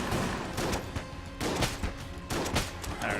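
Bursts of trick gun fire in the video game Enter the Gungeon, three clusters of rapid shots spaced about a second apart, close and fairly loud with no talking.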